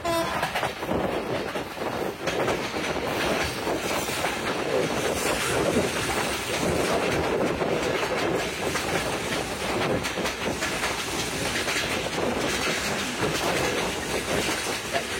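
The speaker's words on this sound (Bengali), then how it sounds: "টঙ্গী জংশন ছেড়ে জয়দেবপুরের দিকে এগিয়ে যাচ্ছে জয়দেবপুর কমিউটার" Joydebpur Commuter train running on rails after leaving Tongi Junction toward Joydebpur, a continuous loud rumble and rattle with rhythmic clickety-clack heard from on board at around 50 km/h.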